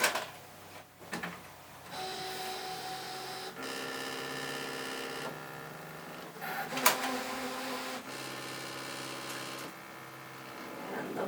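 An electronic fabric cutting machine calibrating and cutting a Churn Dash quilt project: steady whirring motor runs with pitched tones shifting in stages and small clicks, close and fairly quiet, with little talk.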